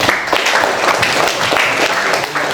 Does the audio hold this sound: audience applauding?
yes